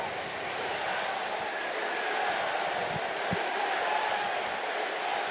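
A packed baseball stadium crowd at a Dodgers–Padres game roars in a broad, sustained wash of cheering that stays loud and steady throughout, with no distinct voices standing out.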